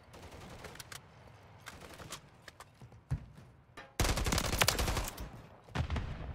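SVA 545 rifle fire in Call of Duty: Modern Warfare III: scattered single shots, then a dense rapid burst of automatic gunfire, all fairly quiet.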